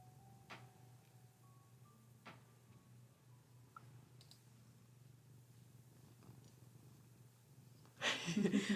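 A cat's soft, low, steady purr runs quietly through the clip with faint ticks, then a sudden burst of louder rustling noise near the end.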